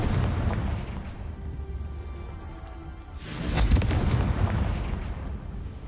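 Confringo spell blast from Hogwarts Legacy: a sudden burst erupts midway, then a sustained loud rumbling boom rolls over a steady bed of game ambience.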